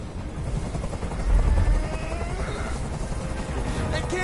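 A helicopter in the video game Detroit: Become Human drones steadily with a dense rotor chop, loud and continuous, briefly swelling in the middle.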